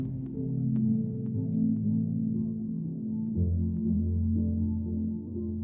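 An iOS delay app effect processing a sound into a murky underwater tone, a low throbbing hum with smeared repeating echoes that swell and fade, steady and moderately loud with no voices.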